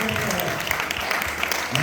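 Audience applause at a Jain community gathering, a brief burst of many hands clapping evenly through the whole moment with a voice faintly heard underneath.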